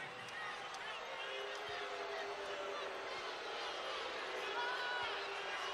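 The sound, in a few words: unhappy basketball arena crowd reacting to offensive foul call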